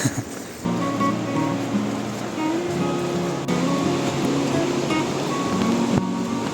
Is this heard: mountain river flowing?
yes